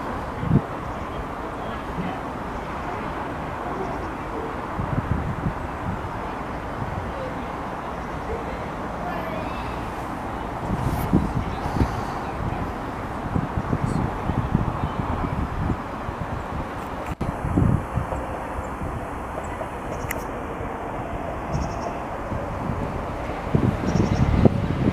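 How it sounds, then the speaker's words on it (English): A Class 365 electric train rolls into Stevenage station on the East Coast Main Line, arriving as a low, steady rumble under heavy wind buffeting on the microphone, with a brief high whine partway through and occasional voices nearby. "Just coming in now, we've got another 365"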